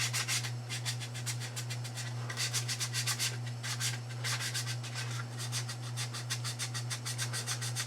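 Wood being sanded by hand with a 220 grit sanding sponge in a scroll saw workshop, brisk rhythmic back-and-forth rubbing strokes, close and steady over a constant low machine hum.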